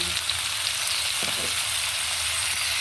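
Cauliflower sautéing in a pan, a steady, close, bright sizzle of frying with faint stirring scrapes partway through, no voices.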